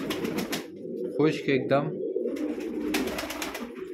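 A prized Shahanshah pigeon, a spotted, lace-patterned bird, gives throaty cooing in short bursts near the middle, with someone talking before and after.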